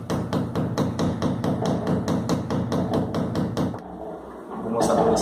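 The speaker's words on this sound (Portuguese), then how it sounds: "O próprio parafuso aí, ó. Coloquei ele aqui, pessoal, ó, e dá umas batidinhas." A screw is tapped against ceramic tile to start a hole, giving a fast, steady run of close, sharp knocks for several seconds before stopping, followed by a little handling noise.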